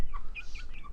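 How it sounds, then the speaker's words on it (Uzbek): A giant rooster weighing about 6.5 kilos clucks close by, a quick series of short clucks filling the brief moment. "Janavar gigant xo'roz ekan."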